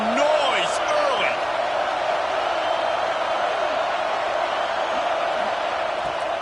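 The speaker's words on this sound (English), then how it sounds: "This crowd bringing the energy and noise early." Stadium crowd noise in College Football 26 for Alabama at Texas, a steady, loud roar with a sustained droning hum and whistling throughout, under commentary.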